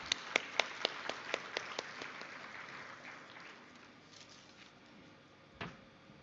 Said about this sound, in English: let us welcome Maulana M.F. Abbasi with a big round of applause